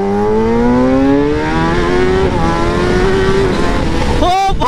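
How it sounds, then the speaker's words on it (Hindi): A motorbike accelerating hard in a drag race, its loud, close engine note climbing steadily in pitch through a long pull before cutting off abruptly near the end. "आजा ड्रैग रेस।"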